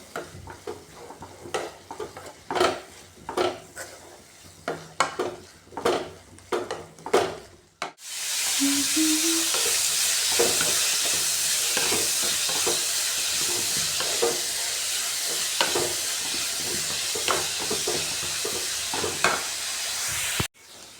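Onions and curry leaves going into a pan for crab roast, first a run of rhythmic scraping stirs, then a sudden loud burst of sizzling that keeps going under further spatula strokes.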